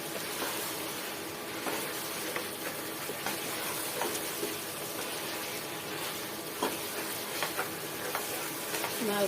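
Fish frying in a pan being stirred, a moderate continuous sizzle with scattered scraping and clicking stirring sounds, close and steady, with no talk.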